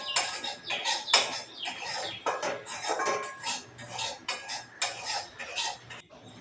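A metal spatula scrapes and clinks against a pan while stirring semolina frying with salt, in repeated close, rhythmic strokes with no talking.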